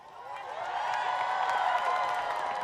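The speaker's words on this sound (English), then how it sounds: "Can everybody please give one more big round of applause for this amazing collection of talent?" A large audience at an outdoor Christmas tree lighting ceremony claps and cheers in a steady, loud wash of applause that swells and holds for a few seconds.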